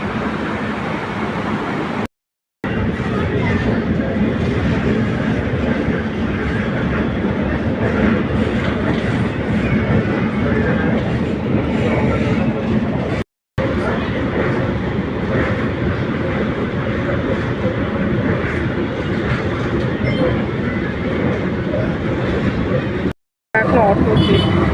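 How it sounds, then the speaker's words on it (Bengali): A metro train runs steadily with a loud, continuous rumble and rattle of rail travel, broken by a few brief dropouts, and no clear talk over it. "আমি প্রথমে মেট্রো করে যাব।"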